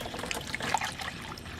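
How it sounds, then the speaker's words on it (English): Concentrated antifreeze trickles through a funnel into a half-full jug, a light continuous pour with small bubbling gurgles, close and fairly quiet. "I'm going to use a funnel and fill up the rest of the bottle"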